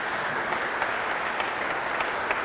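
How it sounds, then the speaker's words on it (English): Steady audience applause at a WWII memorial ceremony, a dense continuous patter of many hands clapping at moderate volume with no talking. "I think all of us should give John another hand, special applause."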